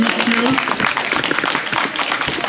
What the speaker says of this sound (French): on peut l'applaudir, mesdames,